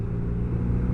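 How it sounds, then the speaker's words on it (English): A BMW R nineT motorcycle with its standard exhaust gives a low, steady rumbling drone, close and continuous for a single second. "It's got a lovely sound coming out of the standard exhaust."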